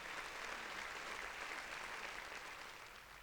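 A small studio audience claps steadily during a podcast taping, a faint, even wash of applause that holds throughout and eases slightly at the close.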